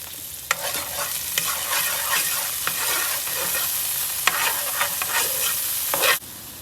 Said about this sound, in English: I know y'all hear that sizzle.